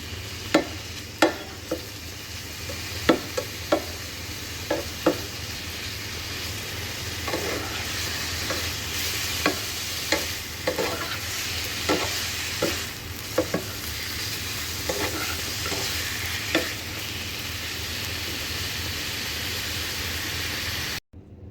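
Chicken pieces sizzle in a hot pan, a continuous fry hiss punctuated by regular scraping taps from stirring over roughly twenty seconds; no voices.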